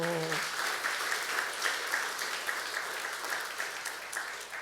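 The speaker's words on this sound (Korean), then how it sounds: "박수 한번 쳐주세요" A church congregation claps for the worship team, a lively, sustained patter of applause that begins right after a brief spoken word and carries on evenly at moderate volume.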